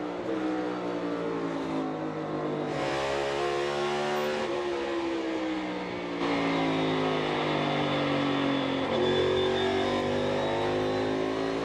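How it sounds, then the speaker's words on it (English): NASCAR Cup Series race cars lap a short oval of almost a fifth of a mile at Richmond in 2023, loud engines rising and falling in pitch as they downshift for the corners, several cars overlapping in a continuous roar. "Now Chase Briscoe and others downshifting for the corners on a little almost 5th mile track."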